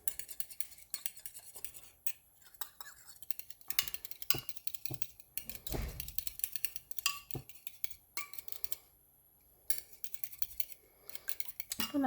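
A fork beats eggs in a bowl for an egg roll, making quick, irregular metallic clinks and scrapes close by. Brief pauses break up the steady stirring rhythm.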